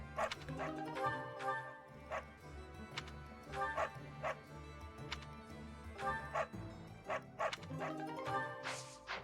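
Dogs barking in the video game Fire Emblem Three Houses, with loud, repeated barks and yips that come in bursts throughout, close and prominent.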